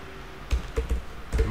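Brief bursts of keystrokes on a computer keyboard while writing PHP code, a handful of close, soft clicks in quick uneven clusters over a quiet background.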